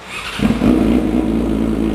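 A Yamaha R6 sport motorcycle with an SC Project aftermarket exhaust revs sharply, climbing to a loud, raspy roar and then holding a rough, throbbing idle close by.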